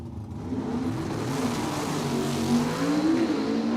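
Drag race cars, one a Chevrolet Nova, accelerate hard down a dragway strip, a steady loud engine roar that climbs in pitch through the gears and holds close for the whole stretch.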